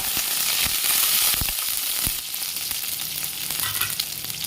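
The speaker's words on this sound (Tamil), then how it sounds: "கருவேப்பிலை நல்லா வதக்கி வச்சுக்கோங்க" Curry leaves sizzle in hot oil with garlic and dried red chillies for a coriander chutney, giving a constant close crackle and hiss with a few sharper pops and stirring scrapes, no voices.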